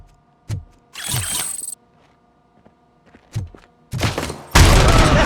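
Gunfire in the video game RoboCop: Rogue City on Xbox Series X/S: scattered single shots and short bursts separated by quiet gaps, ending in a loud, sustained volley.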